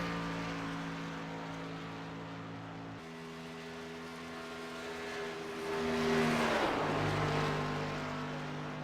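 A racing truck engine from a video game drones through a qualifying lap at Michigan, holding a steady buzzing tone that shifts pitch, then swells louder and sweeps down near the end, with no voices.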